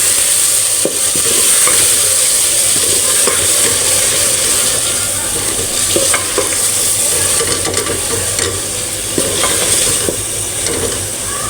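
Minced meat frying with yogurt, tomatoes, peas and capsicum, stirred continuously in a pan: a loud, close, unbroken sizzle with scraping stir strokes and light utensil clicks.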